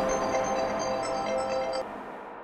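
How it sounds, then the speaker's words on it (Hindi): A phone ringtone plays a repeating electronic melody of tonal beeps, fairly close, then cuts off abruptly before the end. "एक मिनट रेखा जी, हमारी मॉम का फोन है।"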